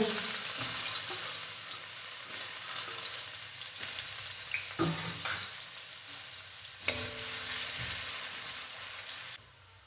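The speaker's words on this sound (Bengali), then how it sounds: "প্রথমেই পেঁয়াজ দিয়ে গরম তেলের মধ্যে" Onion frying in hot oil for a chicken kosha, a steady close sizzle with occasional stirring clatter and scraping, no talk.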